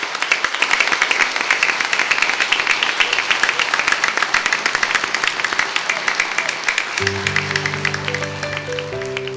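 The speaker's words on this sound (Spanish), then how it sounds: "Denle un aplauso a la palabra de Dios." Applause fills a church service as a congregation claps steadily and loudly for several seconds, and a sustained keyboard chord enters near the end.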